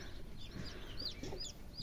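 Soft, scattered clucking from several chickens, low-level and somewhat distant, with a steady background hiss underneath.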